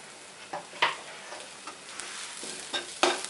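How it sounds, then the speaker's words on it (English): A spoon stirs poha with turmeric, spices and salt in a dry pan, giving soft scraping strokes with a few sharper clinks against the metal over a faint sizzle. "Again stir it well"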